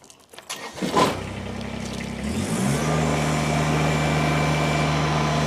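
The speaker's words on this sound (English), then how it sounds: "I'm going to take this tractor, I'm going to fire it up, I'm going to run it around" A 2019 Kubota BX2380 compact tractor engine cranks over with a brief starter whine, catches, then settles into a steady loud idle that keeps running close by.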